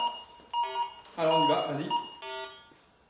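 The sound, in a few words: metal detector tone detecting iron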